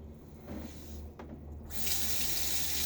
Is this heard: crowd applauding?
no